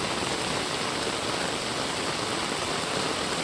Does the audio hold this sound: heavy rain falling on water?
yes